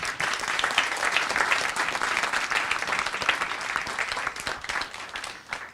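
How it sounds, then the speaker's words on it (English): An audience claps for four leaders at a Taylor Talks event, with dense, lively applause filling the room for several seconds before it starts to thin out near the end. "maybe just one more round of applause for these 4 fine leaders"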